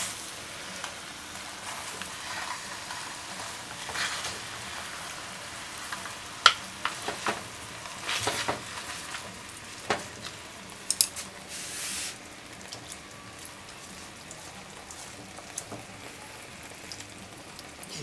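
Pork teriyaki frying skin side down in a pan, a soft continuous sizzle with scattered sharp crackles and pops, fairly quiet and close, with no talking.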